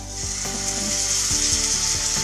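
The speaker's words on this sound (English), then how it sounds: "Fry this first." Tofu frying in a pan, with a steady, bright sizzle running throughout and small bubbling pops and clinks mixed in, heard up close with no talking.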